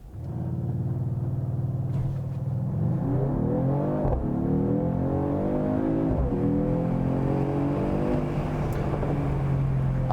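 A 2022 Mercedes-AMG GT 43 four-door with a turbocharged straight six accelerates hard from a standstill, its engine climbing repeatedly through upshifts in a strong, continuous rising drone heard from inside the cabin.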